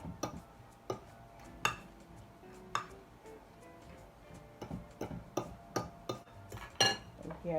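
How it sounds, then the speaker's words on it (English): Saltfish ball mixture with added breadcrumb and egg being mixed in a bowl, giving soft, irregular clinks and taps of a utensil against the dish, fairly quiet and close, with no talking. "And we're going to go ahead and start mixing again."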